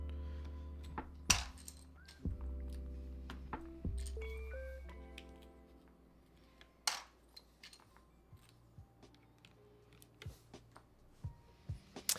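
Loose keycaps from a large set for a Lilac Hiney TKL keyboard build clatter and tick in scattered light clicks, near and fairly quiet, with no talk.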